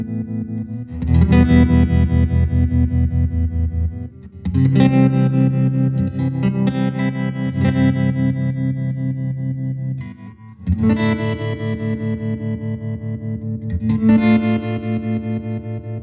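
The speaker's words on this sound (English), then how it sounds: "Here's a little more speed 5 on the vibrato, and intensity of 10." Sustained electric guitar chords through a 1974 Fender Super Six Reverb amp pulse with deep, fast vibrato at speed 5 and intensity 10, strummed in several loud phrases separated by short pauses.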